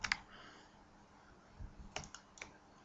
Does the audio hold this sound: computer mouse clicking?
yes